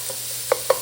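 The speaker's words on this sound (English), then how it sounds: "Now we're going to add our garlic and our chili pepper flakes. So we'll stir these for a couple of minutes" Garlic and chili pepper flakes sizzling in a pan with a soft steady hiss, as a utensil clacks twice against the pan while stirring.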